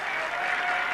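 A speedway crowd at Hull claps steadily for the 1977 Yorkshire Television Trophy winner, a dense, even wash of applause from a large audience filling the whole moment.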